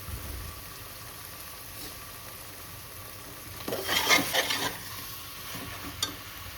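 Chicken biryani masala with tomatoes cooking in a pan, with soft stirring and a brief louder burst of sizzling and scraping midway, then quiet simmering and a single light clink near the end.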